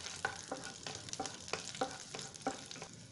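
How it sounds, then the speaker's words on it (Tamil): Garlic fries lightly in a little oil for mint rice, a soft steady sizzle broken by regular stirring strokes of a spoon against the pan, close and quiet, without talk. "இந்த பூண்டு சேர்த்துக்கலாம், லைட்டாக ஃப்ரை பண்ணிக்கிங்க."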